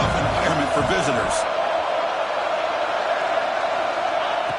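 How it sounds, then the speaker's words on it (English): At a football game, a stadium crowd keeps up a steady, loud roar through the early going while a commentator talks over it at first. "Listen to the crowd energy here in the early going."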